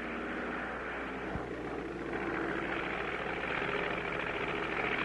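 An airplane engine drones steadily at a constant level, with one brief sharp knock near the start.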